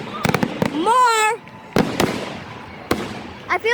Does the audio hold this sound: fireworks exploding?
yes